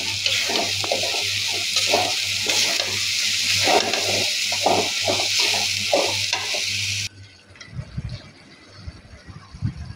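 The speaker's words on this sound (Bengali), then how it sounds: "আর এইদিকে এই যে শুটকি ধুয়ে রাখছি" Dried fish is washed in water in a home kitchen, with rhythmic swishing and sloshing over a loud steady hiss, probably a sizzling pan nearby. After about seven seconds it turns to quieter, irregular splashes and handling.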